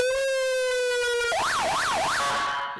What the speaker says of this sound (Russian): Первую клавишу проверим. Слышим звуковой сигнал.